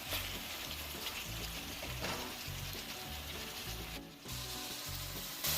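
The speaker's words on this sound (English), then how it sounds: "Now we're gonna let the shrimp fry down for 10 minutes" Shrimp cooked with pepper fry in a pot, giving a steady close sizzle with a scraping, rubbing stir and brief clatters throughout, heard alone with no talking.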